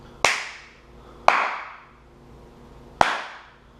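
Three sharp hand claps, the first two softer and spaced about a second apart, the third stronger after a longer pause, each with a short room echo, clapped to set off a dog bark alert sensor.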